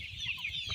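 Free-range village chickens in rural Zambia give brief, soft clucks close by over a low outdoor background.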